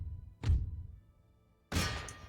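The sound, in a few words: cannon fire in video game Empire Total War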